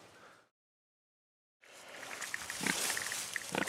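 A pig snorts and grunts close by in a home setting. A short sound comes first, then a gap of silence, then a busy stretch of snuffling grunts.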